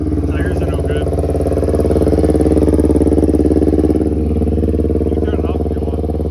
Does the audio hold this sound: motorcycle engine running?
yes